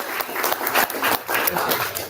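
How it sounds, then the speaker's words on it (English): Audience clapping at a university marketing club general body meeting, a dense wash of many hands applauding together in a room, steady for a couple of seconds with no one speaking over it. "Clap again."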